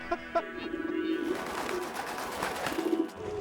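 Pigeons cooing nearby, soft repeated throaty coos over a busy outdoor background with a hum of activity.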